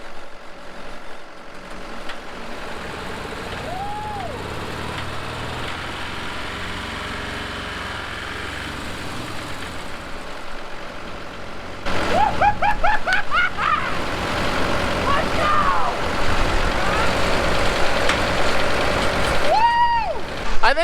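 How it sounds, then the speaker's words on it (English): An engine on a farm runs with a steady droning rumble at moderate distance, stepping up louder partway through and continuing, with brief squeaky tonal chirps scattered over it. "we think this engine's gonna run"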